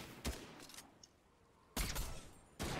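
Distant bursts of video game gunfire come in short volleys, one early and two louder ones near the end, separated by quieter stretches.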